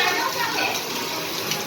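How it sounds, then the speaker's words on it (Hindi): Heavy stormy rain pours down in Karachi, a loud, dense, unbroken rush of water that fills the whole clip, close by, with someone talking over it. "बहुत तेज़ बारिश हो रही है, बहुत तेज़ कराची के अंदर।"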